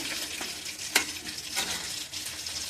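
Vegetable rice stirred and fried in a pan, with steady sizzling and frying hiss broken by scraping stirs and occasional sharper clinks, close and fairly loud, no voices.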